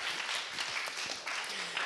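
Broad, steady crowd applause at a church service, filling the whole moment, dense and continuous without a break, with no voice standing out above it.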